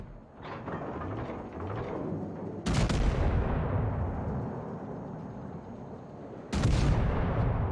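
Battleship Texas main guns firing in a naval combat video game: two huge, sudden booming salvos a few seconds apart, each rolling into a long rumbling decay, over a steady background roar.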